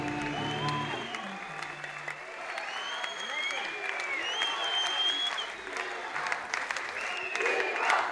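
Studio audience applauding for a singer on a Turkish TV show, steady clapping throughout with music and a few voices running underneath, moderately loud.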